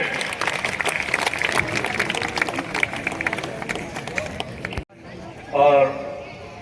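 Audience applause and cheering at a Hindi kavi sammelan poetry gathering in Rampur for the poet and host, a dense sustained crowd clapping that cuts off abruptly, followed by a brief voice.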